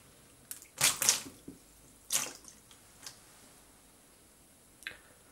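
An apple drops into a full measuring jug of water, giving a sharp splash and a second splashy burst, then a few faint drips and ticks as the water spills over. The sound is close and quiet.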